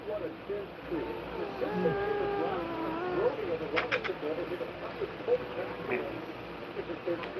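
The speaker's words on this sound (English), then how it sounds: "I am a grumpy kitty." A grumpy cat growls and yowls, drawn-out wavering moans rising and falling for a few seconds, close by, with a person talking around it and background noise.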